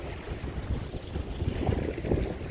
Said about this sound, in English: We're sailing in Ellesfjorden.